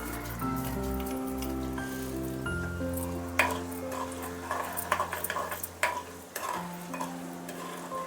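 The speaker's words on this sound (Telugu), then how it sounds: "మినప్పప్పు మంచి కలర్ వచ్చే వరకు వేయించుకుందాం" Black gram dal (urad dal) fries in a pan with a soft crackle. Scraping and clattering stir strokes grow busier toward the end, and a faint steady tone hums underneath.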